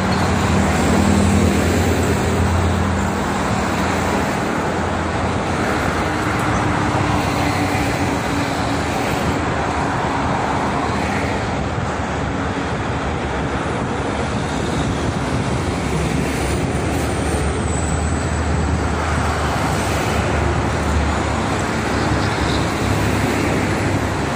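Heavy morning traffic on the Jakarta–Cikampek toll road, with freight trucks and buses streaming past in a steady, loud roar and wind rumble that never lets up.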